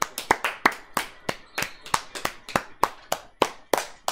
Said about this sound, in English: Clap like this.